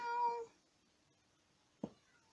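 House cat meowing once, a clear drawn-out call close by, followed by silence and a short faint knock.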